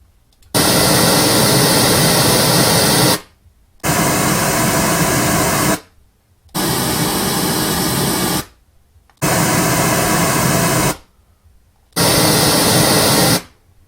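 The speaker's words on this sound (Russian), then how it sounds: "Для начала я включу розовый шум, для того, чтобы вы могли оценить на каждом мониторе его звучание." Pink noise from Dynaudio LYD studio monitors plays in five loud, steady broadband bursts of about two to three seconds each, separated by short silences, with no talking.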